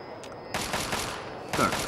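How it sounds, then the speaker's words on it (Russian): Gunfire in Fallout 3, a quick burst of several rapid shots followed by another shot, moderately loud against a quiet background. "Так, кто-то стреляет."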